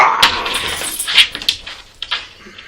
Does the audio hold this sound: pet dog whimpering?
yes